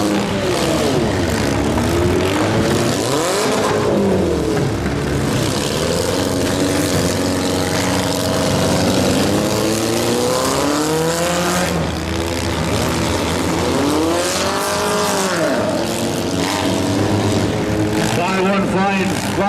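Stock compact race cars roar off at the start of a heat race, engines loud and continuous with rising and falling pitch sweeps as cars pass, while an announcer talks over the noise throughout.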